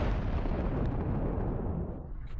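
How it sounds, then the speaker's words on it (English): An armoured personnel carrier hit by a drone strike explodes as its ammunition detonates, giving one loud, continuous, rumbling blast that fills the whole stretch and fades only slightly near the end. "The APC is consumed by flames, causing its ammunition to detonate rapidly, followed by a massive explosion."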